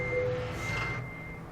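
A truck's reversing beeper in American Truck Simulator, one steady electronic tone over a low engine rumble, fairly close, with no talking.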